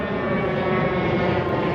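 An airplane drones steadily overhead above Mission Beach in San Diego, a loud, continuous engine roar filling the whole stretch with no break.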